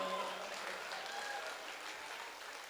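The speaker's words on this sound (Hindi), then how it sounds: "तालियां कम रह गई, तालियां अब उठाना" Applause from an audience at a Hindi poetry recital (kavi sammelan) in Rath, a fairly quiet, steady patter of clapping that stays even for a few seconds.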